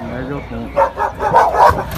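Golden retrievers packed onto a dog-meat truck bark in short, close bursts, mixed with a person talking nearby.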